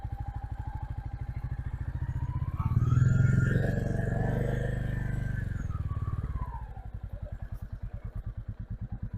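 Royal Enfield Goan Classic 350 single-cylinder motorcycle thumping steadily over an uneven loose mud road, its exhaust pulse swelling louder as the rider opens the throttle midway, then settling back to an even idle-like beat.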